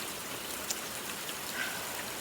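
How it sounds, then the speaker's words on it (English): Rain falls in cold weather as a steady, dense patter and hiss, close and even, with a few single drops standing out. "Rain, cold weather"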